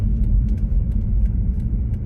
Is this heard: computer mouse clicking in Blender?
no